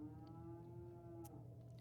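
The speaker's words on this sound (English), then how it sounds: "I hear the cows in the background" Cows mooing in the background, a long low sustained moo, fairly faint and alone without talk.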